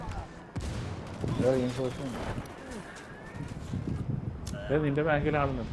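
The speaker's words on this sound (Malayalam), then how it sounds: "ഇതേ അടുത്ത മോട്ടാർ വരും" Mortar blasts and gunfire from Ghost Recon Wildlands pop through the clip as explosive thuds, with a voice talking over much of it.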